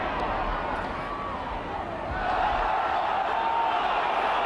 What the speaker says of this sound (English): The crowd going absolutely berserk about that one